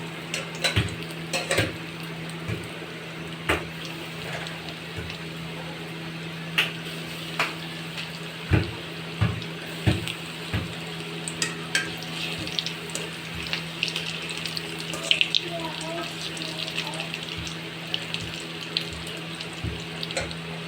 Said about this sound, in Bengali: চপগুলো আমি ছাঁকনির সাহায্যে এখন তেলে ছেড়ে দেব।